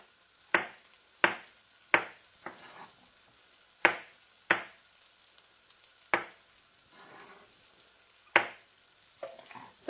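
Fat heats in a pan before gnocchi is fried, with sharp intermittent crackles and pops every half second or so over a faint steady sizzle, close and fairly quiet.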